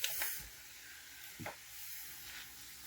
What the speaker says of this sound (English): Next, I'll be adding in half of the mushrooms.